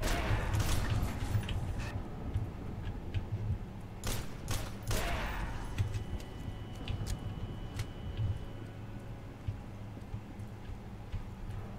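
Bursts of gunfire in the PC shooter F.E.A.R. 2: Project Origin, slowed in slow motion: a loud clustered volley at the start and another sharp burst a few seconds later over a steady low rumble of game ambience.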